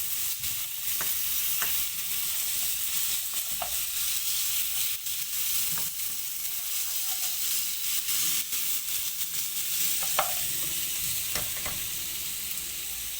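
Carrots stir-fried in a hot pan for egg fried rice give a steady, close sizzle, with scraping and stirring strokes recurring throughout and no talking.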